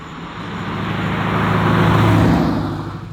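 A 1968 Chevrolet Camaro SS pro-touring restomod with an LS3 V8 drives along, its engine a steady deep rumble that swells as it accelerates and then eases off, heard from inside the car.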